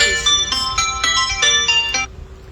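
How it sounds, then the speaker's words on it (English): A mobile phone rings with a bright, repeating electronic ringtone, about five quick chimes in steady rhythm lasting two seconds before cutting off, loud and close with no speech. "My phone has been dinging all day."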